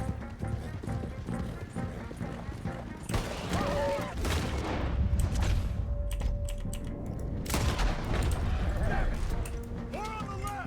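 Gunfire and shouting fill a Red Dead Redemption battle scene, with bursts of shots under urgent voices and galloping hoofbeats, growing louder and busier midway through.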